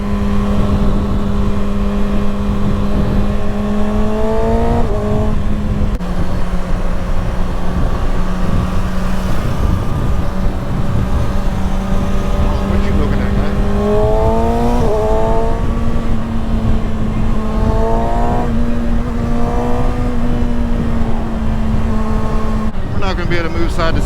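A 2021 Kawasaki Ninja ZX-6R 600cc sportbike engine revs hard and loud on the ride, its pitch climbing and dropping through several gear changes under steady wind rush.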